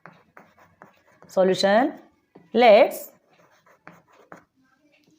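A teacher writing out an algebra solution on a board, short scratchy strokes and taps scattered through the clip, with someone speaking in between.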